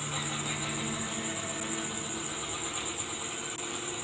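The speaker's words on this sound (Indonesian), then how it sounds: "Aduh, berisik banget mesin." A steady engine drone runs without a break, loud and close, with a faint rattle and a constant high whine on top.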